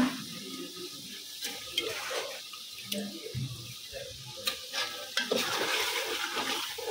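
Meat going into oily, fully fried biryani masala in a pan sizzles steadily, with scraping stir strokes and occasional clinks and splashes, close and moderately loud, no talking.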